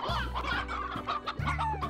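Chickens in the video game Slime Rancher cluck steadily in a busy, overlapping stream of short calls, loud and close, with no talking.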